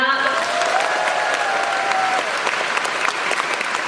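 Concert audience in Andong applauding at an encore stage, steady loud clapping filling the whole stretch with crowd noise, a faint tonal voice or instrument briefly audible early on.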